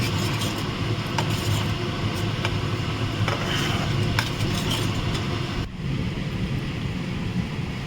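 Spiced masala paste cooking in separated oil for a stuffed pointed gourd (potol) dish, giving a steady close sizzle and frying hiss with scraping stir sounds throughout and a brief dip near the end.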